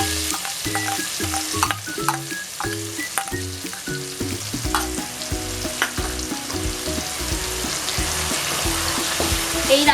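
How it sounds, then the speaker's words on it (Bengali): Onion and green chilli paste hits hot oil in a pan with already fried onions, sizzling loudly and continuously, with repeated stirring and clinks of a spoon throughout and no talk. "পেঁয়াজটা ভাজা ভাজা হয়ে গেছে, এর মধ্যে আমি পেঁয়াজ পেস্ট আর কাঁচা লঙ্কা পেস্টটা দিয়ে দিচ্ছি"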